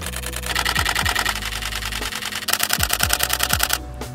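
A Canon 90D camera fires its shutter in rapid bursts at 10 frames per second, a fast mechanical clatter of close, crisp clicks running in two stretches with a brief pause between.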